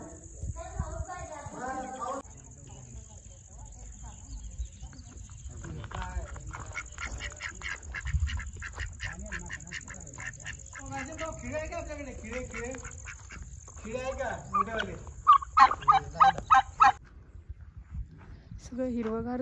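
Ducks quacking in short bursts at evening in a green village setting after light rain, mixed with other birds and heard under frequent talking.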